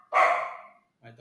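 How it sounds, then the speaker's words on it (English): A single loud dog bark rings out close by and fades over about half a second, followed by a brief low murmur that may be a voice. "my dog's barking."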